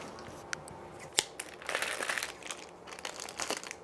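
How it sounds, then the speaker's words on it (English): Plastic packaging crinkles and crackles loudly up close, with sharp snaps and rustling bursts over a few seconds. "Now it's got to be so loud, the packaging."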